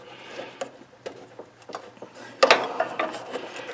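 Ratchet wrench loosening a bolt on a John Deere GT262 lawn tractor near the drive belt pulley, a series of close metallic clicks and ratcheting turns, growing busier toward the end, with no talk.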